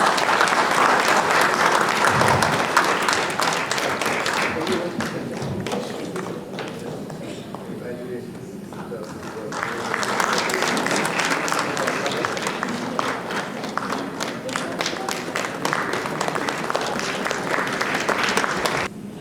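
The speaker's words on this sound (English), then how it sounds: "So please, give a big round of applause." A crowd applauds loudly, clapping that dips briefly in the middle and then surges back with steady, dense hand claps.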